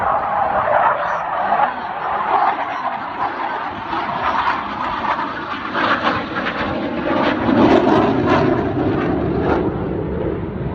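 A military jet, an F-16 or T-50, roars past at an air force wing's air show, a loud, steady, broadband engine rush that builds slightly as it passes and holds throughout.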